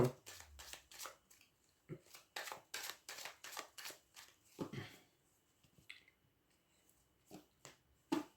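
A deck of Lenormand oracle cards is shuffled and cut by hand, giving a quick run of crisp, rhythmic riffling flicks that thin into a few sparse, faint card taps, close and quiet.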